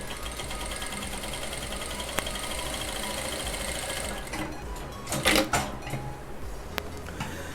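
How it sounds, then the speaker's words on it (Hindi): An Usha S2E1 auto cutter sewing machine running and stitching with an 11-size needle, a steady fast mechanical whir that shifts to sharper clatter and knocks toward the end, close and without talk. "तो मशीन को करते हैं हम चालू।"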